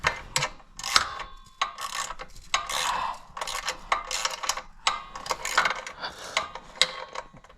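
Wrench working a stuck bolt out of a 196cc diesel motor, repeated ratcheting clicks and metallic scraping in irregular bursts, close and fairly quiet.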